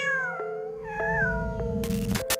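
A cat meows several times in close succession, drawn-out tonal cries up close, ending with a burst of rustling noise.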